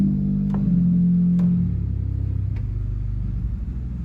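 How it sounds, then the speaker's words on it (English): Deep rumbling drone of a pipe organ's 32-foot contrabass pedal stop in a Catholic church, holding a low sustained tone that dies away to a softer, throbbing rumble with a few faint ticks over it. "We'll do the 32-foot contrabass."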